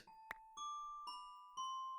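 A doorbell ringer chiming in a video game: a short click followed by three clear, sustained bell tones struck in succession, each ringing on and overlapping the last, with no voices.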